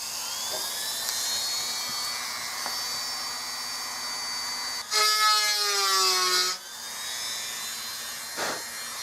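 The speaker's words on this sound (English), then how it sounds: "I don't see any reason why I shouldn't be able to just take a little Dremel and just kind of relieve that." Small Dremel rotary tool relieving a part on an H&R 28 gauge shotgun during restoration: steady high whine that rises into a louder, strained grinding burst as it bites the metal, then eases off.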